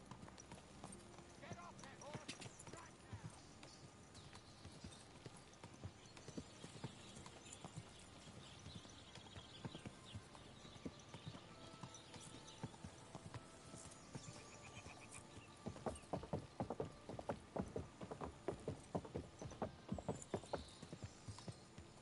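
A horse's hooves clip-clop in Kingdom Come Deliverance 2, a steady stream of footfalls that grows louder and sharper toward the end, mixed with game ambience and a voice talking over it.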